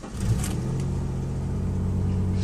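A used car with about 242,000 miles cold-starting, its engine catching and settling into a steady, loud low idle rumble close by, with no talk.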